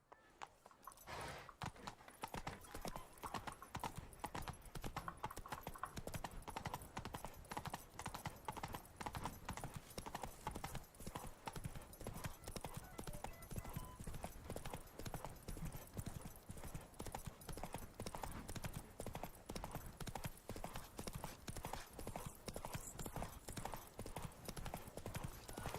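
Roach, the horse in The Witcher 3, gallops in a fast, unbroken rhythm of loud hoof clip-clops that runs steadily for the whole stretch, with a faint whinny and no speech.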